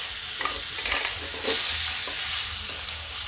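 Fenugreek seeds sizzle in hot oil for kadhi, a loud, close, hissing crackle with scattered pops and stirring scrapes throughout, no voices.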